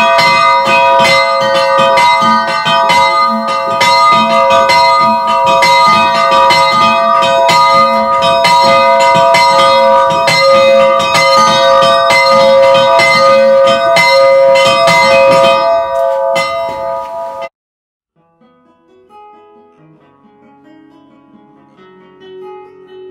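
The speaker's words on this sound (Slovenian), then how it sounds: "Dajmo pa še malo pozvonili pri teli kapelci, ki je posvečena Jožefu" A church bell at a small chapel dedicated to Saint Joseph rings loudly and rhythmically with rich lingering overtones for about seventeen seconds, then stops abruptly, leaving a faint fading hum.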